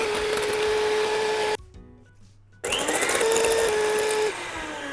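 An electric hand mixer beating egg yolks with sugar for a Japanese strawberry shortcake, a loud steady whine that stops for about a second, then resumes at the same level.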